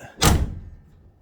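A single heavy car door slams shut nearby with a solid, deep thunk that quickly fades; the car is at a hyperformance garage car show and has a hefty, solid door.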